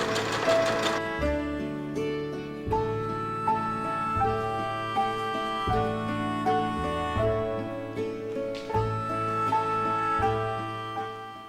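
A sewing machine stitches a scarf onto the front shoulder of a home-sewn shirt, running in several bursts of steady mechanical whirring with short pauses between them. Loud and close, with no talking.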